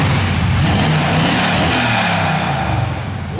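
A rear-wheel-drive Chevrolet Cavalier sleeper on a dyno with nitrous and the exhaust cut off roars in a loud, sustained full-throttle run, the engine note rough and raspy throughout and easing off only slightly at the end.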